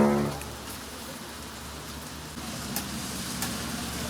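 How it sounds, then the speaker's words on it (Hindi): Steady rain hisses across the whole span while riding a scooter outdoors, a continuous broadband wash with a low road rumble beneath and a couple of faint taps, no voices. "और बारिश स्टार्ट हो गई है"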